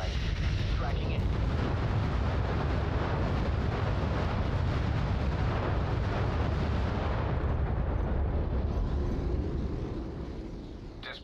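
Bomb strike in the real-time strategy game Crossfire Legion: a dense, continuous rumble of overlapping explosions and blasts, loud and sustained, fading out toward the end.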